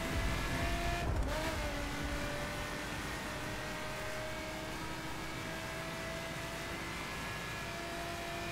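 Cars in The Crew: Wild Run rush past in traffic, a steady loud roar of engines and road noise with a brief sharper burst near the start.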